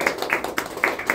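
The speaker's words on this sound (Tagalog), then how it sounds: "Palakpak naman tayo." Small group clapping at a wedding right after the ring exchange, a handful of light, evenly spaced claps, close and brief.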